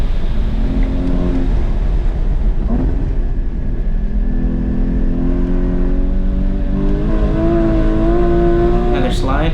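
A Porsche GT4 (981) drives hard through an autocross course, its engine revving and climbing through gears with slides and transitions, loud and close from inside the car, with the driver talking over it.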